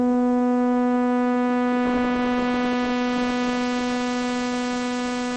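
A steady synthesizer tone with a filter envelope slowly opening and closing, a sustained buzzy drone whose upper harmonics swell and recede, heard alone and constant.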